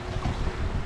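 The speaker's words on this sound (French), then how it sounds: "entre 25 et 28 nœuds de vent" Strong sea wind of 25 to 28 knots off northern Pemba Island, Tanzania, roars as a continuous, loud broadband rush buffeting the microphone, with a low rumble beneath and no voices.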